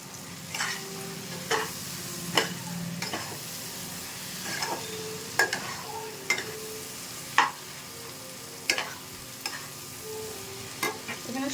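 Papaya and potato fry in spiced oil while a utensil stirs and scrapes the pan in repeated sharp strokes over a constant sizzle, close and with no talking.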